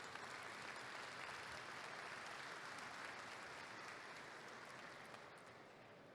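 Sustained applause from a seated panel audience in a Brazilian conference hall, honoring a colonel and former commander-general; steady dense clapping throughout, tapering slightly near the end.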